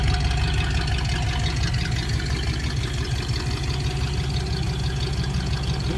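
1964 Ford Thunderbird convertible top retracting, a steady low mechanical hum and whir with engine rumble underneath, constant and fairly loud throughout.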